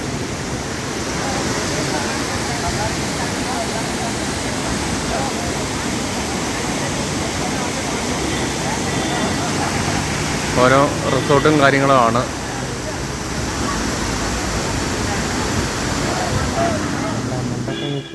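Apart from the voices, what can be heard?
Valanjanganam waterfall flowing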